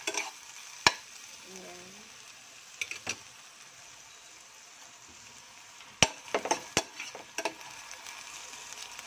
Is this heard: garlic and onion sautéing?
yes